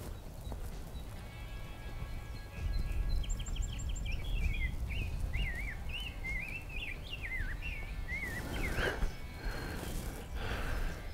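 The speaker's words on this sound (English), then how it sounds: "I'm just sitting here listening to the birds." A bird sings a series of warbling, whistled phrases against soft outdoor background noise on the Ice Age Trail's Clover Valley Segment, joined near the end by rustling sounds.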